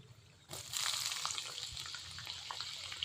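Fresh ginger dropped into hot oil in a pan while making tamarind rice, starting after a brief quiet moment with a burst of sizzling that settles into a steady close crackle.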